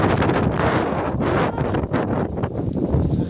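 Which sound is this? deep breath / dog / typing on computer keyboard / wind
wind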